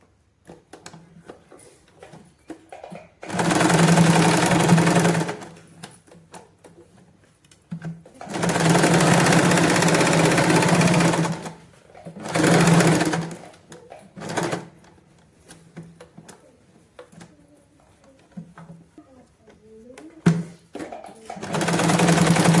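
Sewing machine stitching palazzo trousers, running in several distinct bursts of steady whirring separated by short pauses, close and fairly loud, with no talk over it.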